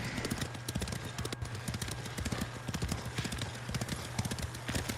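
Horse hooves clip-clop steadily at a walking pace in Ghost of Tsushima, close and fairly quiet, with a soft continuous background hum.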